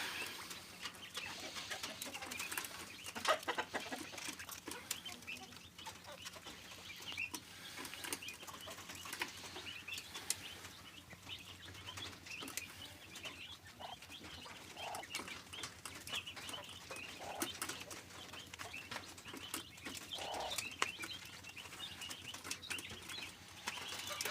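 Quail and bantam chickens murmur and shuffle in a quiet enclosure, with faint cooing, soft rustling and occasional wing flutters, low and steady throughout.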